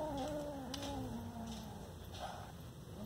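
A small kitten that caught a rat with its teeth and claws gives a drawn-out, wavering meow over low background rumble, sounding close and moderately loud with no talking.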